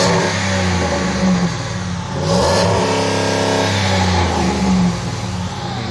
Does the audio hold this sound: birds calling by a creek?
no